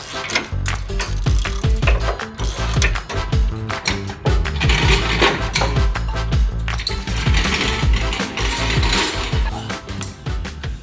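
Rapid, loud ratcheting as long through bolts are tightened through a cross member to mount a skid plate, with fast continuous metallic clicks and clanks close by.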